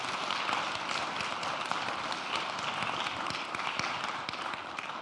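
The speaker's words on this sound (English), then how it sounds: "How about we clap for her and thank her?" Conference attendees clap together to thank the lunch caterer. The applause is a quiet, even, sustained patter, heard from a distance throughout.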